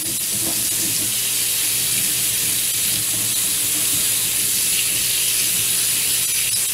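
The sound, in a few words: warm water being poured into a pan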